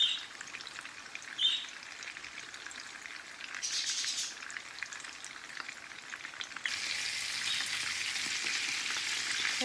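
Cape Malay frikkadel meatballs fry in a pan, giving a steady close sizzle and crackle that grows a little louder and denser toward the end, with no talking.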